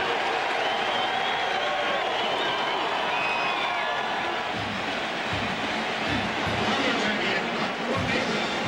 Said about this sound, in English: this crowd now is getting really loud